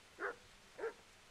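Guard dog in the video game Kingdom Come Deliverance barking twice, two short separate barks about half a second apart, moderately faint over a quiet background with no talking.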